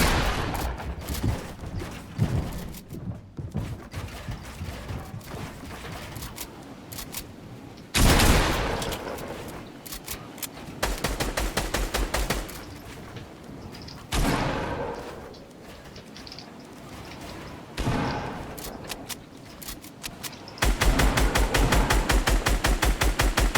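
Gunfire in a video game arrives as bursts of rapid automatic shots, alternating with short pauses, with loud sustained volleys toward the end.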